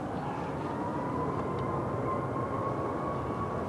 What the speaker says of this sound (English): Ryanair 1155 to Berlin. This is a Max 8 EI IJL.